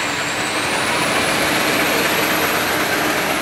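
A Monarch 10EE toolroom lathe spins up to a little over 2000 RPM, producing a steady, loud broadband mechanical roar with a high whine that rises slightly in pitch early on, then holds constant, with no talking.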